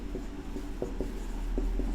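Chalk or marker strokes on a board during a maths lesson, a few short scratchy taps and scrapes spaced irregularly over a low room hum, with no talking.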